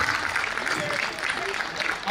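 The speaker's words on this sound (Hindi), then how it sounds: "तब ताली बजाइए," Audience applause at a Hindi comedy poetry gathering, dense steady clapping from a sizable crowd filling the room, with faint murmurs underneath.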